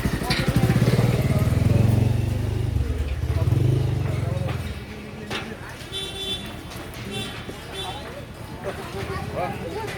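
A motorcycle rumbles past at Devghat in Nepal, its engine loud and near for a few seconds before dropping away, leaving a fainter background hum with scattered sounds, and a voice appears to talk over it.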